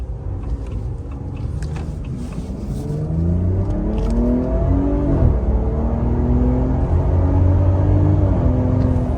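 A 2025 Ram RHO pickup truck with a tuner accelerates hard on a highway, its pitch climbing through gear shifts over a steady road roar, loud and continuous.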